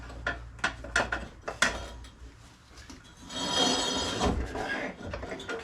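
A noisy Husqvarna lawn tractor mechanism running with the brake on gives off a rattling, ratcheting mechanical clatter, with several sharp knocks early on and then a louder sustained grinding whir near the microphone.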